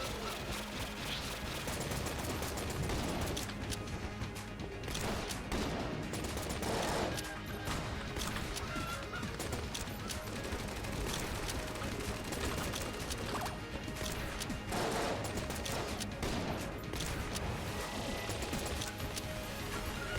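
Rapid gunfire rattles on without pause in Enter the Gungeon, a dense and loud stream of shots mixed with crashes and game effects.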